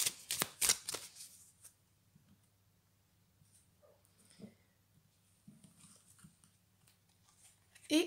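Tarot cards being shuffled and drawn, a quick burst of crisp riffling flutters at the start, then quieter scattered slides and taps of cards against a faint low background hum.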